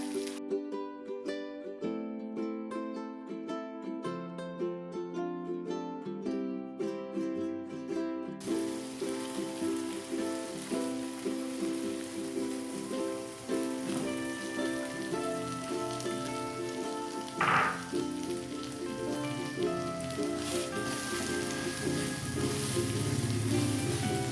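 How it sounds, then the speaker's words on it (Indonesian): Spice paste for ayam woku sautés in a pan with a continuous crackling sizzle, preceded by a stretch of soft tonal music at the start, and no speech. "kita tumis dulu bumbu-bumbunya ya sampai matang ya"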